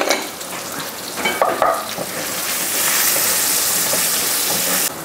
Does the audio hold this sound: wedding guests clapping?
no